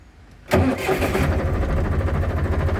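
A Case IH 485 tractor engine cranks and catches about half a second in, then settles into a steady, loud diesel idle close by.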